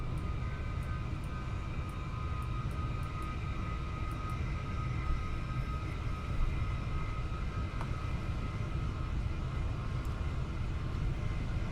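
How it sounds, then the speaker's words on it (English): A Class 387 electric train in Train Sim 2022 running at speed, a steady loud rumbling drone of wheels and motors with a faint high whine and occasional light clicks over the rail joints. "you can really hear the sensation of speed in these trains"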